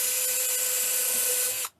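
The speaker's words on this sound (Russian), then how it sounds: "Так, берем сверлышко, просверлим отверстие." A small drill bit boring a hole through a thin wooden board: one steady, loud high-pitched whine that holds evenly, then cuts off abruptly near the end, with no talk.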